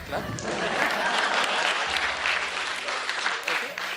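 Audience applause fills the room steadily for about four seconds, dense and fairly loud, with faint voices underneath.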